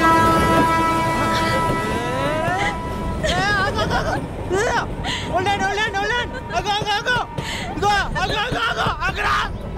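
A train runs along railway tracks in a Telugu movie scene, a continuous rumble with a horn tone early on, while lively voices and chatter carry over it throughout.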